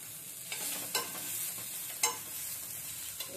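Onion and tomato fry softly in a pan, a faint steady sizzle broken by a few scraping stirs of a utensil.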